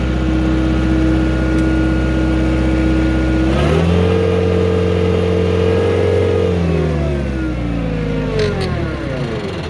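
A New Holland L555 skid steer engine runs at a high idle, a loud steady drone whose pitch rises, holds, then eases back down, with no talking.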